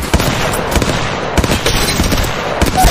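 Rapid bursts of automatic gunfire in the mobile battle royale game Apex Legends Mobile, loud and close, with repeated sharp shot impacts across the whole stretch.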